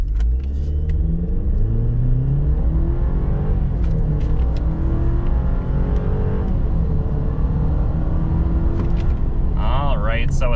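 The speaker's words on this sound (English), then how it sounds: "This is gonna be a 0 to 60 coming off of idle." A 2023 Chevy Silverado pickup with the 5.3 V8 accelerates hard from idle up to 60 mph, its engine roaring loud and continuous with rising gear pulls heard from inside the cab, while people speak briefly.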